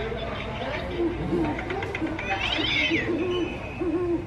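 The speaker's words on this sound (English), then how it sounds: "There's an owl hooting." Electronic owl hoots from a toy Halloween haunted house repeat in short wavering calls over a busy toy soundtrack, with a brief meow-like squeal in the middle.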